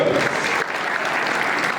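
Steady applause fills an awards ceremony for motorsport drivers in the autocross category, a dense, even wash of many hands clapping from a seated audience, sustained without breaks.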